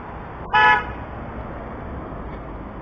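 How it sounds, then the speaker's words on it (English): A single short car horn honk sounds once over steady background traffic noise. "people honk at you just to spite you"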